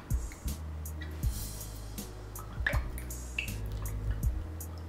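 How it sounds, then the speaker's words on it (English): Water is poured onto a freshly repotted snake plant, making soft drips and trickles with a few sharper splashes into the soil and pot, close by and fairly quiet over a steady low hum. "we're just gonna water it like this"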